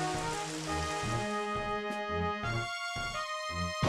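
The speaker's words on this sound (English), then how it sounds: "Uh-oh! It started raining heavily!" Heavy rain in the Pokémon Stadium 2 video game, a steady broadband hiss running throughout beneath bouncy in-game battle music with repeating bass notes.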